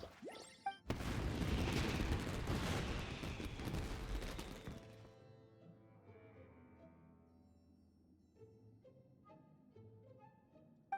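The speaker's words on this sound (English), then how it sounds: "Yoimiya, this is turning into a bit of a fireworks display." Fireworks burst in Genshin Impact as a dense rapid volley of loud booms and crackles, then cut off abruptly and give way to soft tonal game music, with no one talking.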